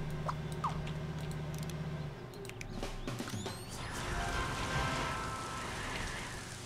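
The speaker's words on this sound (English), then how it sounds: "That was a hell of a rain dance." Rain summoned by a rain dance in Scribblenauts Unlimited, a steady pattering downpour with scattered droplet ticks that swells slightly midway and keeps falling, heard alone without voices.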